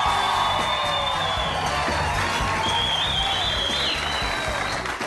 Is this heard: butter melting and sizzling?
no